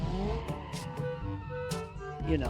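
A car drifts in the driving game BeamNG.drive, its engine droning steadily while tires squeal in several short, hissy bursts, loud and close, with no talk over it.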